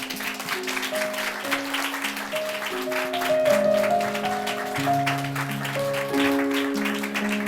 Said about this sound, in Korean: 박수해 주시겠어요?